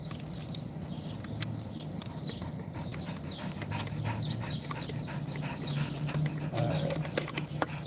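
A dog hot in the heat pants and shuffles nearby with soft rhythmic breaths and scattered light taps, fairly quiet and steady throughout.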